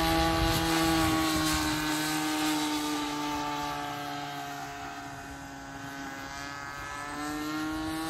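A radio-controlled SS90 twin helicopter makes a low flyby, its steady rotor and engine whine loud and close, shifting in pitch as it passes and easing slightly before swelling again.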